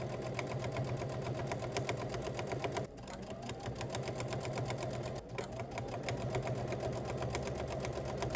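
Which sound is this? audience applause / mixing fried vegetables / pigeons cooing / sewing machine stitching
sewing machine stitching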